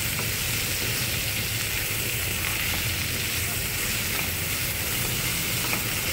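Bitter gourd fries with turmeric and salt in a pan, a loud, constant sizzle and crackle of hot oil filling the whole stretch, with faint stirring and no break in the spitting.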